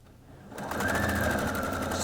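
A sewing machine stitching a quarter-inch seam on a quilted fan-shaped bag, starting after a short quiet moment, then a close, steady, fast mechanical hum and rattle.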